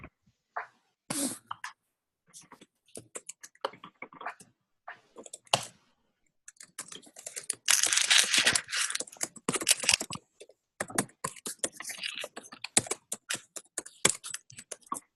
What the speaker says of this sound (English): we're hearing some typing